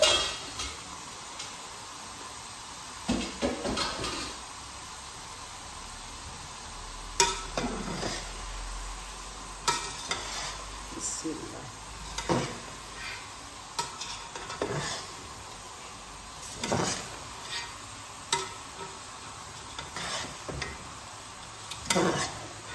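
Potatoes sizzle and fry in a pan for aloo gobhi, with repeated scraping stirs and clinks of a utensil against the pan breaking through a steady hiss, close and fairly loud.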